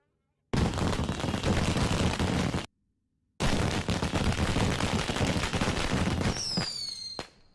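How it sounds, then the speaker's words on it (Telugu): Rapid crackling bursts of firecrackers going off close by, loud and dense, filling two long stretches separated by a brief silence, with a high whistling tone near the end. "టపాకాయలు బాబే వెళ్తున్నాయి."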